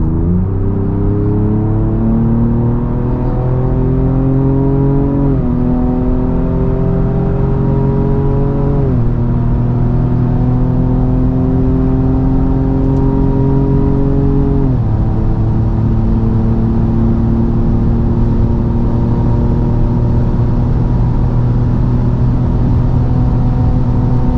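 A 2023 Ford Ranger Raptor with a V6 bi-turbo engine pulls hard from 100 to 180 km/h, its steady engine drone rising in pitch through several gear changes, heard from inside the cabin with heavy road rumble.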